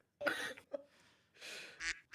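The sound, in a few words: duck quacking sound effect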